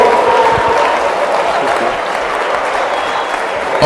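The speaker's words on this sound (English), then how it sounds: "Give Congressman David Price a round of applause" A school crowd at a town hall gives Congressman David Price a sustained round of applause: thick, even clapping with a faint murmur of voices mixed in, holding steady throughout.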